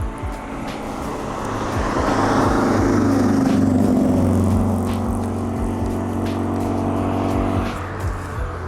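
Car passing on the Spa-Francorchamps circuit: a steady engine roar swells as it approaches, holds loud and close for several seconds, then fades away at the end, with no talk.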